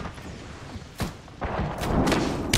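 Gunfire in the battle royale shooter Apex Legends: scattered sharp shots and thuds, one early burst, then denser broadband firing building toward the end amid game noise.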